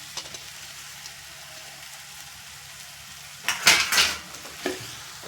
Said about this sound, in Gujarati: તો આપણી ગ્રેવી આખામાં મિક્સ થઈ જાય ને ત્યાં સુધી આપણે પાસ્તાને આ રીતે મિક્સ કરી દઈએ